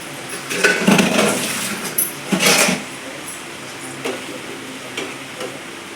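Homemade paneer pieces stirred into a sizzling butter masala in a pan, with a few scraping and clinking stirs near the start, then a soft, steady sizzle underneath.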